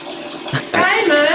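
Tap water runs from a faucet into a drinking glass at home, starting after a brief pause as a steady, close rushing stream.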